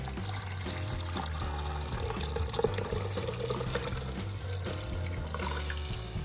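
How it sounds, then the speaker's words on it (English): Water pours steadily into a pressure cooker pot for lentil soup, a continuous close splashing rush with a low hum underneath and no voices. "Then I'm going to add 6 cups of water."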